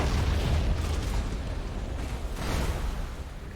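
Lightning strike explosions hit an enemy ship in the space-battle video game Battlefleet Gothic: Armada 2, a loud, sustained rumbling roar of booms with no talk over it.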